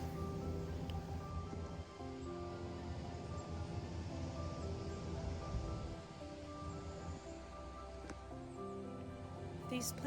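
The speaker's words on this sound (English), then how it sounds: "the wind's definitely blowing today." Continuous broad rushing wind in a fall front side yard garden, rising and falling softly like distant surf, with a person talking over it throughout.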